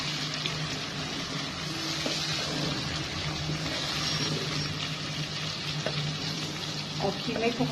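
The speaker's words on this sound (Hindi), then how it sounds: "और कीमे को हम इतना भूनेंगे कि इसका जो पानी है वो खुश्क हो जाएगा।" Minced meat (qeema) with ginger-garlic paste and salt fries in a pan, giving a steady, dense sizzle with occasional stirring scrapes throughout and no voices.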